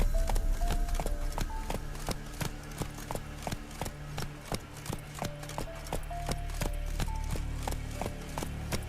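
Horse hooves clip-clopping at a steady gallop in The Witcher 3, a rapid even rhythm of close, crisp hoofbeats with game ambience underneath and no talking.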